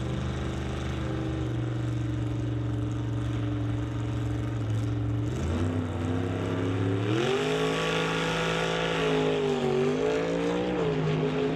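A 1955 Chevrolet Bel Air and a Chevy II at a drag strip idle and rev in the staging lanes, a loud steady engine drone that rises in pitch with surging revs partway through, with no talking.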